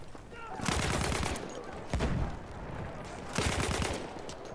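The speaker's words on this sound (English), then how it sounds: "how I'm shooting at these guys over here, I'm suppressing the snipers" Battlefield 1 gunfire suppressing snipers, loud rapid bursts of automatic fire in three clusters over a busy battle din.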